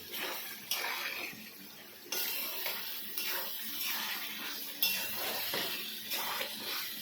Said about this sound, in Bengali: এইভাবে আমি অল্প করে করে জল দিয়ে দিয়ে কষাই